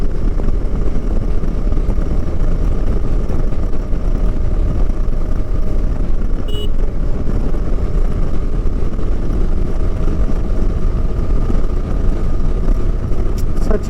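Wind roar and engine drone from a KTM 390 Adventure motorcycle cruising along the Kolar highway, loud and steady throughout from the rider's position, with no break in the rushing noise.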